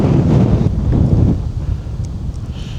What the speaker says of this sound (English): the wind's picking up a little bit, and the wind is dead in my face